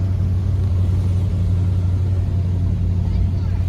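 A Ford Torino with a 351C engine and Sniper EFI drives through a neighborhood, giving a steady, loud low rumble that holds constant without revving or shifting.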